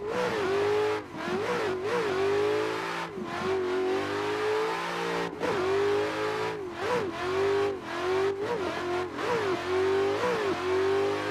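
A BMW E30 in a racing video game revs hard and steadily, its engine note rising through repeated gear changes with brief dips between pulls, loud and close with no talk over it.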